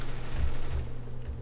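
Rapid automatic gunfire in the video game CS:GO rattles loudly and close for a short burst, its shots running together with no voices over it.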